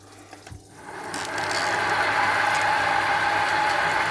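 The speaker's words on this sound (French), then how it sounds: "Donc là, je tourne à 660 tours, arrosage." Coolant starts spraying onto the work as a traditional milling machine drills at 660 rpm. Quiet mechanical ticks give way to a rising, steady hiss that holds loud and close, with no talk.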